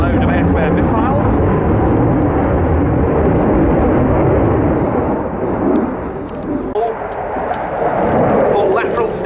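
A Boeing F/A-18F US Navy jet carrying underwing air-to-air missiles roars through a display manoeuvre at an air show, a loud continuous thundering engine rush that dips briefly and swells again, with a commentator talking over it.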